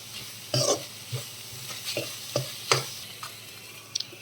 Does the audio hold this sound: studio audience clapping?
no